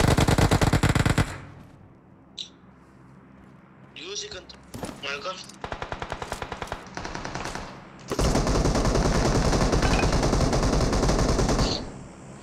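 Rapid automatic gunfire from the video game BGMI, with bursts and single shots early on, then a long, loud continuous burst near the end, while players talk over it.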